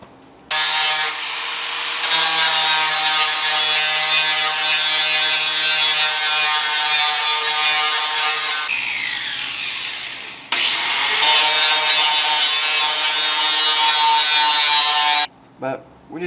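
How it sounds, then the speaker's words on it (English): A small hand grinder shaves down plastic on the inside of a Ram 1500 grill, giving a loud, sustained whining buzz that runs in long stretches with a brief pause and stops near the end. "we're just going to use a little hand grinder to shave down this plastic on the inside"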